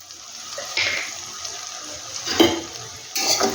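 Fenugreek greens being stirred with ground coriander, Kashmiri chili powder and turmeric in a pan, giving close, wet scraping and shuffling swishes with a few louder bursts of spoon-on-pan stirring.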